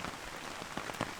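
Steady rain patters on a camper awning, a dense close hiss broken by a few sharper drops striking the fabric; no voices.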